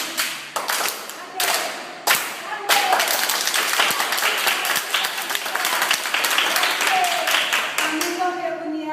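Sustained applause and clapping from a crowd at a school and orphanage gathering honoring children, dense and steady throughout, with a few sharper slaps standing out near the start.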